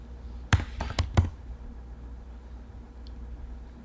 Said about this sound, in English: let's type in create again, create an item in SharePoint